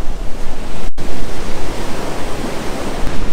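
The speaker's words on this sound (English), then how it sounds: "there's lots of really cool waves" Ocean surf rolls steadily onto an Outer Banks beach in North Carolina on a hot day, a loud, continuous broadband wash of breaking waves and rushing water with no voices over it.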